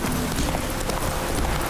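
Horse hooves in The Witcher 3, a steady run of quick clip-clop footfalls under game ambience, close and moderately loud for the whole short stretch.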